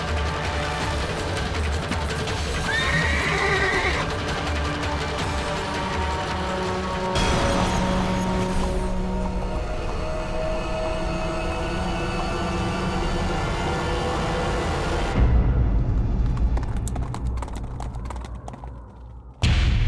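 A horse rampages in a loud, dense battle-like din of thuds, clatter and crashes in a historical drama setting, the noise sustained throughout with a sharp change in texture late on.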